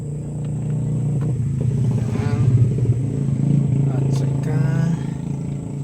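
Traffic rumbles past on a busy street, with engines swelling and fading as vehicles go by, while someone talks nearby.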